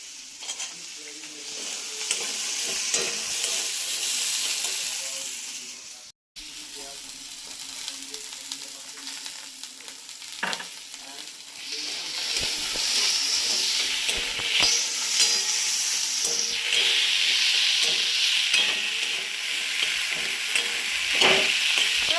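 Soaked chickpeas fry and are stirred in a pan for Bengali thor ghonto (banana stem curry), a steady loud sizzle with scraping stirs throughout, a brief pause near the middle, then a stronger hissing fry.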